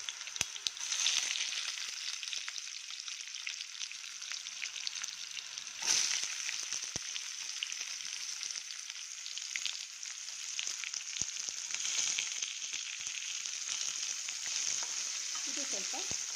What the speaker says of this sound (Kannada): ಇದು ಸ್ವಲ್ಪ ಚೆನ್ನಾಗಿ ಫ್ರೈ ಆಗಲಿ